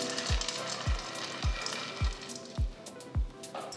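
Date and nut burfi mixture stirred in a pan over a low flame gives a sticky scraping and squishing sound, with six evenly spaced strokes that each end in a soft low thud, mixed with a faint sizzle. Nobody speaks.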